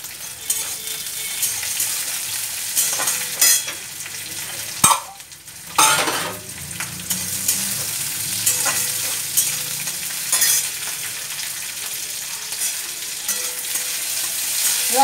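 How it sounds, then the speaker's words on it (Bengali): Capsicum fries in ghee in a pan, a steady close sizzle running throughout with a spatula scraping and clinking against the metal as the pieces are stirred, and a brief louder clatter partway through. "এবার ক্যাপসিকাম ছেড়ে দিচ্ছি"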